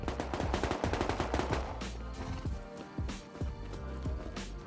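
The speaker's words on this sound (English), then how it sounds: "Oh, someone's shooting." Bursts of rapid automatic gunfire in the survival game Rust, loud cracks rattling in quick succession, then slower scattered single shots echoing amid the game's background noise.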